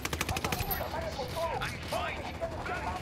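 Gunfire in Ghost Recon: Wildlands, a quick burst of shots at the start followed by scattered crackling fire and clatter, with voices talking over the combat.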